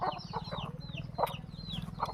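Free-range country chickens on a poultry farm clucking in short, repeated calls from several birds at moderate distance, over a low droning background.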